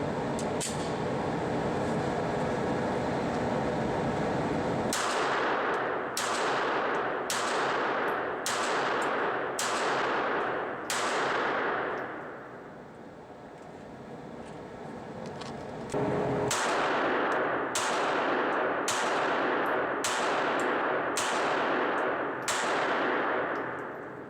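A Glock 42 pistol fires at a target about 7 yards away, sharp loud shots in two bursts of evenly paced rounds, each with a ringing decay.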